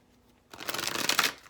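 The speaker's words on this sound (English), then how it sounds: "One more shuffle feels about right." A deck of tarot cards is riffled in one quick shuffle, a close, crisp burst of flapping cards that lasts about a second after a brief quiet moment.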